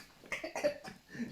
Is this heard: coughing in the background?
yes